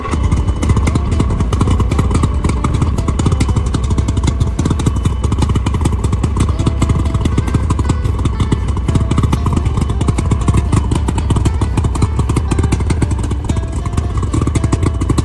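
A 24-foot wooden fishing boat's long-unused engine runs loud and close, a steady rapid thumping chug with rattling clatter that holds unbroken throughout.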